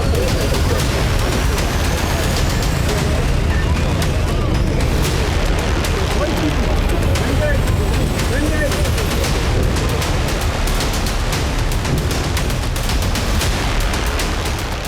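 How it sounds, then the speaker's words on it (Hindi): Missiles falling and exploding during a Hezbollah attack on Haifa, recorded from a building in the city: dense, continuous rumbling blasts and sharp cracks that overlap without pause, loud and rough throughout. "इस वीडियो में मिसाइलों के गिरने और धमाकों की आवाज को साफ साफ सुना जा सकता है"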